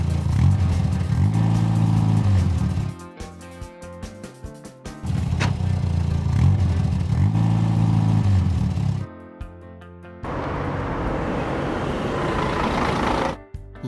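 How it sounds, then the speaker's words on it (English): Animated green truck driving, with repeated bursts of revving engine separated by clunky pauses, ending in a rough sustained motor roar. "Green truck."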